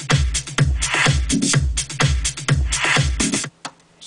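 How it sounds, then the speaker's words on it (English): Electronic dance music drum intro with a punchy kick on a steady four-on-the-floor pulse and bright hi-hat and percussion layers, loud and close, cutting off abruptly near the end. "So I'll give you a little blast of the beginning of the drums when they come in."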